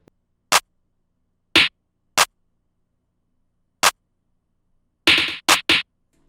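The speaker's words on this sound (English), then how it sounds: "I have the no lie snare, which kind of complements the clap." Programmed snare and clap hits sound together in a sparse beat, widely spaced at first, then a quick cluster of sharp strikes near the end.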